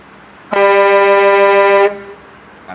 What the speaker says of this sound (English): Got the air horns on top.